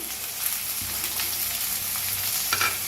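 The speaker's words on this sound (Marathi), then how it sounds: "त्याला बी छान भाजून घेऊया तर कांदा टमाटो छान भाजले" Onion and tomato fry in a pan for a Marathi ridge gourd curry, giving a steady, close sizzle with a few soft stirring scrapes.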